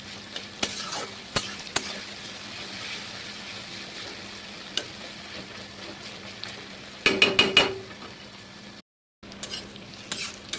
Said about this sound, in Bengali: পেঁয়াজ আর টমেটোটা খুব লাল করে আমি ভেজে নিয়েছি